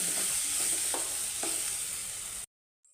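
Spiced potato masala for aloo bhaji fries over a low flame with turmeric, a steady close sizzle with a few soft stirring scrapes before cutting off abruptly.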